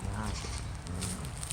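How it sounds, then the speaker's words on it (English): Baby goats bleat off in the distance on a sunny farm walk. Their thin, wavering cries come in short calls over steady outdoor background noise, with no one speaking. "that's the baby goats over there making noise"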